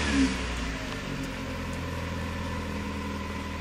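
A car engine running steadily at a low, even drone after being push-started by popping the clutch while rolling down an incline, loud and alone without talk.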